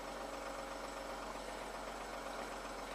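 A Jeep Rubicon engine idles with a steady, loud rattle from a cam timing fault, a continuous mechanical clatter recorded up close with no talk.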